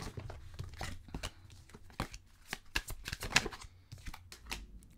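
Tarot cards shuffled and drawn: close, quiet riffling and slapping of cards with crisp irregular flicks and taps, no voice.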